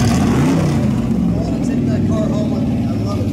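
A custom street-racer muscle car with a Tremec 600 transmission, Speedway Specialties 9-inch rear and Detroit locker rumbles loud and close at a rod and custom show, a steady deep idle running throughout.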